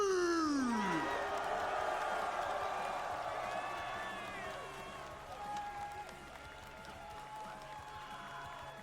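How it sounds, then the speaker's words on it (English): A large crowd at the Evo fighting game tournament applauds and cheers loudly for the champion, with whoops and shouts rising at the start and then slowly fading. An announcer's voice and sweeping music tones mix in with the noise. "They're cheering."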